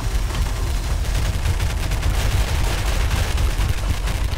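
Rapid gunfire in the video game Garry's Mod, a dense continuous burst of shots and booming impacts lasting several seconds, loud and steady with no talking.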